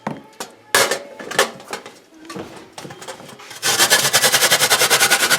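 Beans being ground into a paste on a hand grinder in a kitchen: irregular scraping and knocking strokes, then a loud, fast, rhythmic grinding that runs to the end.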